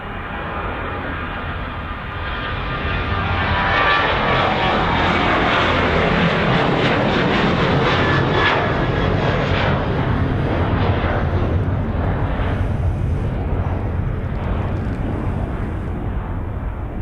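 Ryanair airliner departing Birmingham Airport for Budapest, its jet engines roaring loud and close as it spools up and climbs, a sustained broad rumble that builds after the first few seconds and holds, with no talk.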